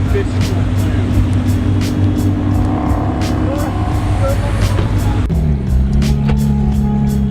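A GT3 sports car driving along, its engine a steady low drone from inside the cabin that drops in pitch with a gear change, while people talk over it.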